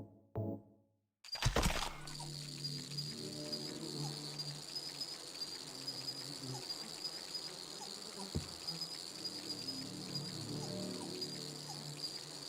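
Insect bugs in Silent Hill 2 chirp and buzz in a dense, continuous drone after a brief cut-in, a steady swarm-like hum with faint clicks through it, and no one talking.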